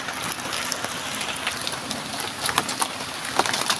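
Steady morning rain pattering on surfaces outdoors in the Philippines, a soft continuous hiss with scattered louder drops and occasional faint bird calls, no talking.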